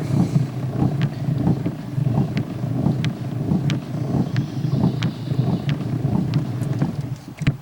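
A Pathe Model 50 phonograph being wound by hand, giving a steady train of regular mechanical clicks over a low rumbling hum, close up and with no talking.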